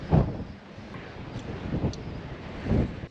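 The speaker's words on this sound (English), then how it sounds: "It's windy." Wind blowing across an open desert at an adventure motorcycle festival in California, buffeting the microphone in low gusty roars that swell and fade, close and rumbling, with no voices.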